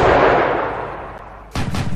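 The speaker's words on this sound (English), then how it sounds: "Artillery." Artillery fire in a Roblox military simulation game sounds as a heavy boom that decays, then a second sharp blast strikes about a second and a half later.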